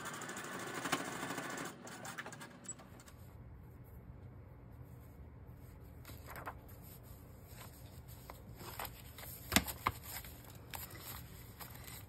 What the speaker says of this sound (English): So I'm gonna go ahead and do another stitch right here on this side.